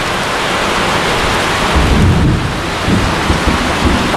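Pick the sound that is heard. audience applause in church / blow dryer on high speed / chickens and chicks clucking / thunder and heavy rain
thunder and heavy rain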